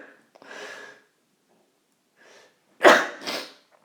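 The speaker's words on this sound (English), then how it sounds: "I'm going to sneeze" A person sneezes loudly and close by, a sharp double burst following quieter breathy sounds, with no talking.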